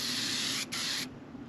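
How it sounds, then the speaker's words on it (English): Spray adhesive hisses in a strong, close burst onto seat foam for a 1964 Ford F100 bench seat repair, briefly interrupted once, then cutting off. "you spray it on there really heavy"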